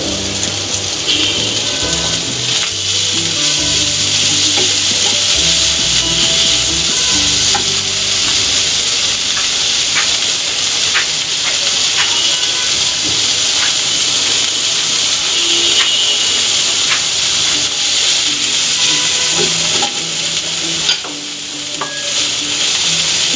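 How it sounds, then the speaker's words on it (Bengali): Cubed onions fry in a pan with a loud, steady sizzle lasting the whole stretch, close by and dense with crackles, with occasional stirring scrapes and a brief dip near the end. No one speaks. "এবং এটার সাথে কিছু কিউব করা পেঁয়াজও আমি দিয়ে"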